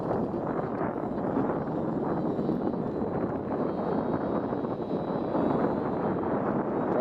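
72-volt Eagle electric bike running at full throttle on a canyon road, a steady loud broadband roar of motor whine and rushing wind that holds constant throughout without any talking.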